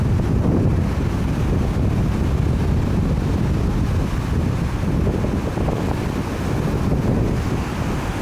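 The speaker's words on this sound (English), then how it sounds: "There's your wind power on Lake Superior. It sinks ships." Strong north wind blowing over big waves on Lake Superior, a loud, constant roar of gusts buffeting the microphone over crashing surf, close and unbroken throughout.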